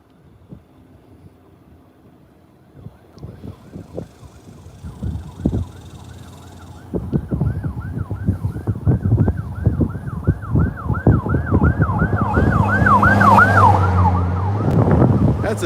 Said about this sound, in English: I hear sirens in the distance,